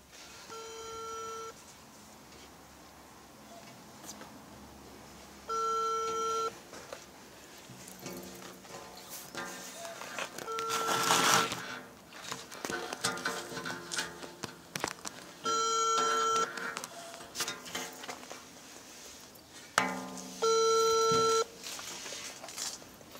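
Telephone call tones during a prank call: repeated electronic ringing bursts, each about a second and a half long and separated by pauses of several seconds, over a busy indoor background.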